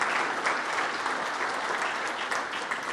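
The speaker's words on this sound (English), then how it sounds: "So let's give them a round of applause for the work that they've done" Steady, dense applause from a business roundtable audience at a tenth-anniversary event, a continuous even wash of many hands clapping for three seconds with no voices on top.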